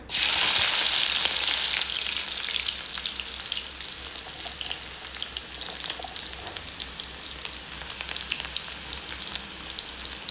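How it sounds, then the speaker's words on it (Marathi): Onion dropped into hot oil in a home kitchen, giving a loud sizzling hiss at first that settles into a steady, close frying crackle throughout. "आता टाकून घेते मी तेलामध्ये कांदा."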